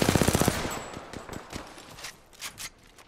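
Rapid automatic gunfire from a video game battle royale ranked match, a loud burst of fast shots at the start followed by scattered, fainter single shots and impacts trailing off.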